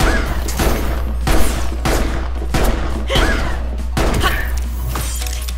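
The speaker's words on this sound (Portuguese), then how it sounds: "A pistola nunca ficará sem munição, então atire à vontade, tá certo." Prompto's pistol in Final Fantasy XV fires in a rapid string of sharp, punchy shots, roughly one every half to three-quarters of a second, close and loud over a low steady hum.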